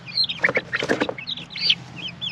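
Chickens, Isa Brown and buff barred rock hens, cluck and chatter in a lively, uneven run of close calls with no voices.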